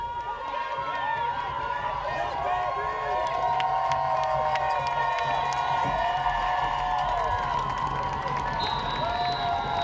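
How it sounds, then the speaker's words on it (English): A crowd at a women's football game roars and cheers continuously, with whoops and applause while a commentator talks over the noise. "Crowd making a lot of noise here for this second down."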